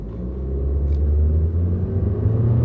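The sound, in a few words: car engine accelerating as the turbo kicks in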